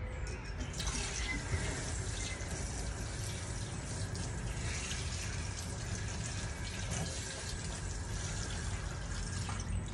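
A forceful stream of water pours from a kitchen tap in a new home, a steady loud rushing and splashing that runs unbroken throughout.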